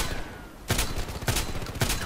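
Saiga 12K shotgun blasts in the shooter game Contract Wars: quiet at first, then three loud, evenly spaced booming shots about half a second apart.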